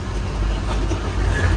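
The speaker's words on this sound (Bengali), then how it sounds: "আমরা এখন আছি ট্রেনে" Steady low rumble and rattle from inside a moving passenger train, a continuous dense drone with faint clatter and no clear voices.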